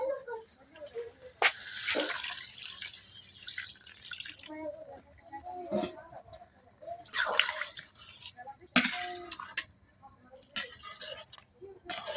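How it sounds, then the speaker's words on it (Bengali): Broth poured into a pot of meat and potato curry, intermittent splashing pours with drips and clatter, fairly close and moderately loud. "এখন পরিমাণ মতো ঝোল দিয়ে দেন"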